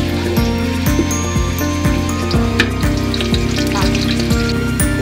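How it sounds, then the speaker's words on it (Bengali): Chopped onions frying in oil for chicken biryani, a loud continuous sizzle close up, with regular rhythmic tones running beneath it and no talk. "পেঁয়াজ কুচিটা লাল করে ভাজার আগ পর্যন্ত আমরা অপেক্ষা।"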